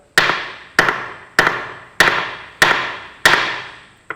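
Seven sharp metallic hammer blows at an even pace strike a broken bolt with a welded-on nut on a Massey Ferguson 65 tractor, each ringing briefly before the next; close and loud, no talk.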